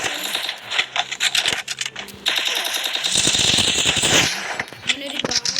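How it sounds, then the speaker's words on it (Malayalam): Video game gunfire during a match, with rapid bursts of sharp shots and a headshot, loud crackling volleys broken by short pauses and mixed with game sound effects. "അങ്ങനൊരു കാര്യമായ ഹെഡ്ഷോട്ട് അടിച്ചോണ്ട് ശ്രീഹരി"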